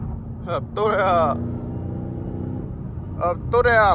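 A straight-piped Hellcat widebody car drones with a deep, steady engine rumble that stays loud and close throughout, while someone talks over it in short bursts.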